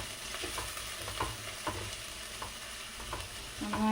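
Garlic-ginger paste sautés in a pan for pepper chicken, a soft steady sizzle broken by light scraping strokes of a stirring utensil at irregular intervals, close but fairly quiet, no talking.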